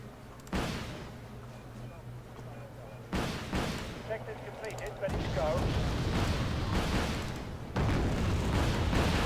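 Explosions and artillery fire in the Wargame strategy video game, four sudden booming bursts over a rumbling backdrop, with a voice talking over them.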